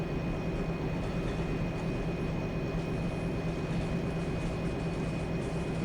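GE Evolution locomotive driving in a train simulator game: a steady, loud rumbling roar with a constant tonal whine, continuous throughout without talk.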